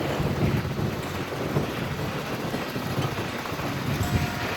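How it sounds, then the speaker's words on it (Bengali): Wind buffets a microphone on the Dankuni bridge, a dense, steady low roar with rumbling gusts that stays loud and unbroken throughout, with no voices. "হাওয়া দিচ্ছে"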